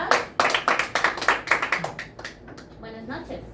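Players in a mafia party game clap together in a quick, irregular burst of hand claps, close and fairly loud, thinning out and fading under a talking voice toward the end.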